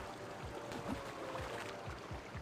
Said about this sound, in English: Got a little bit of waterfall over here.